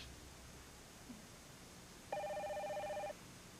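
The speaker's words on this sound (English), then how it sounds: "Excuse me, I'm expecting a phone call." A telephone bell rings in a quiet room, one continuous electronic ring lasting about a second, clear and fairly close against faint background hiss.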